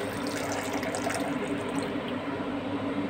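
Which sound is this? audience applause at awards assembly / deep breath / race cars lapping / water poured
water poured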